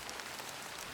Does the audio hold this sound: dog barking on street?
no